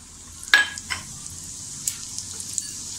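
Cumin hitting hot oil for a tempering, a sharp metallic clink of a utensil followed by a soft ongoing sizzle with a few small taps, close and fairly quiet, no talk.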